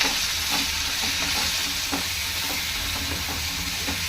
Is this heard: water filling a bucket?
no